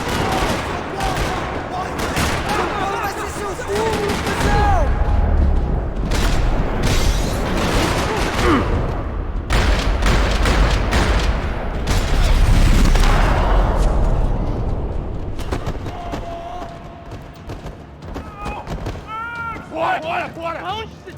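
Sustained gunfire rattles through a parking lot in Max Payne 3, with bursts of automatic fire, heavy booms and shot cracks piling up loud and close, briefly easing near the end before more scattered shots.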